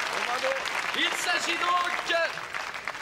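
Loud studio audience applause on a television variety show, with cheers and shouted voices mixed into the clapping as it continues briefly.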